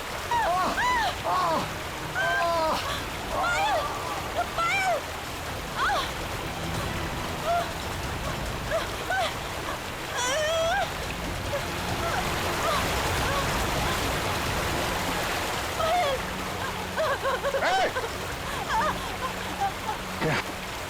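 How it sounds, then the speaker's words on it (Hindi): A waterfall gives off a steady broadband rush of falling water that runs the whole time beneath voices talking and calling out. "सामने देखो, वाटरफॉल कितना सुंदर है"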